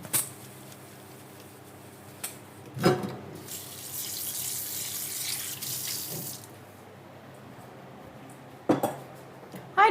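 Kitchen tap water runs steadily into a sink for a few seconds while something dirty is washed, framed by sharp clinks and clatters of dishes before and after, close and with no talking.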